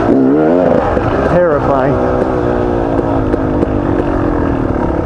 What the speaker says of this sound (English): A lot of four-wheelers up here.